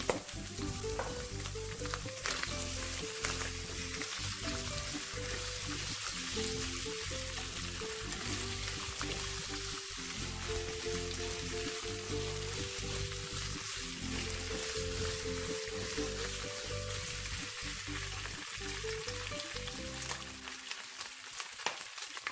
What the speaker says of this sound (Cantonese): 豬肉都爆香嘅時候，撥埋一邊，落薑蓉、蒜蓉爆香。